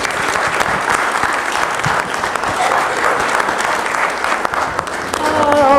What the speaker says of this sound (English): let's give a very huge round of applause and welcome to Dan Medlin